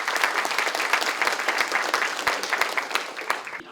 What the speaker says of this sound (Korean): 당 대표 박수보다 2배는 더 크시군요